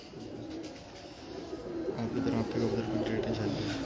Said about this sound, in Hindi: ये देखो ये दोस्तों इंडिया जा रहे हैं कबूतर